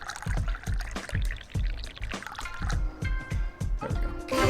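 Green tea is poured in Dave the Diver, a soft liquid pouring sound over steady, rhythmic low thumps from the game's sushi bar scene.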